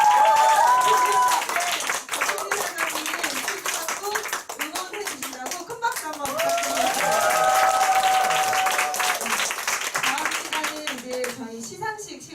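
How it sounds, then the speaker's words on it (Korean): Audience applause at a Korean group meeting and awards ceremony, steady clapping from a crowd sustained for over ten seconds alongside background music. "응원해 주신다고 큰 박수 한번"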